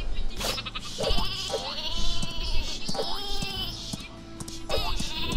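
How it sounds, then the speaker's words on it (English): Sheep in the video game Worms W.M.D bleating several times in wavering cries over busy game sounds, with voices faintly present. "Sheep."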